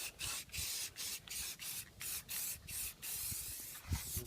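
Dip spray coats a Mustang GT as a third coat, hissing in short, evenly spaced bursts about three times a second. The hiss is faint and steady with brief gaps between passes.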